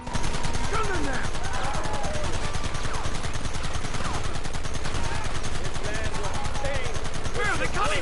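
Dense rapid gunfire rattles nonstop in Red Dead Redemption, a loud continuous barrage of overlapping shots with shouting voices mixed in beneath.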